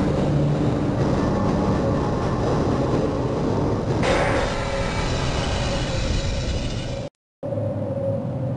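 Steady rumbling tram ride in the video game Half-Life (1998), with continuous rolling noise and a brief cut to silence near the end.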